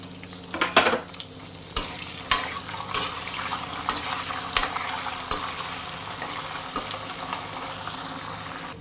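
Dried red chillies and green chillies frying in oil in a pan, a soft continuous sizzle with occasional clinks and scrapes of a stirring spoon.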